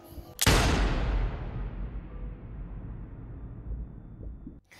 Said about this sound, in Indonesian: Howard langsung mengeksekusi Emmett dengan pistolnya.